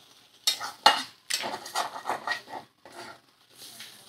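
Eggs frying with potato and plantain peel in a pan, stirred in a run of scraping, clattering strokes over a soft sizzle, close and fairly loud with short pauses between bursts.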